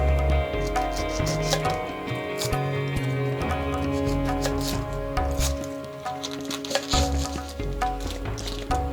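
Onions chopped with a knife in a home kitchen, a string of irregular close thuds and crisp cuts against a board, with some low background noise between strokes.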